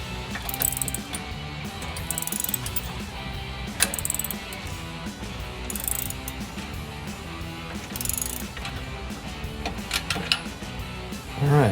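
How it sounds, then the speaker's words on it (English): Ratchet fitted with a 19mm socket tightening a bolt on a Jeep Gladiator JT rock rail, giving rapid repeated clicking strokes, close and distinct, with short gaps between bursts. "I've got a 19mm wrench on this and a 19mm socket on the ratchet to tighten it down"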